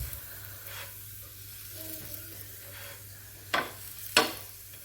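Cucumber rotti pressed and cooking on a hot griddle stone gives a soft, steady sizzle, with two sharp scraping taps near the end.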